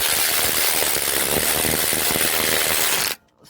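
The starter motor bolts on a GM 5.3L engine are run in with a ratchet on an extension. It makes a dense, buzzing mechanical whir for about three seconds, then cuts off abruptly.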